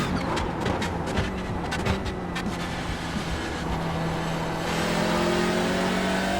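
A Hyundai racing car engine in the iRacing sim game revs hard and climbs through gears, the pitch rising and dropping with each shift, loud and close, game-like.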